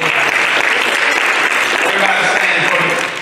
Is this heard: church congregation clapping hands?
yes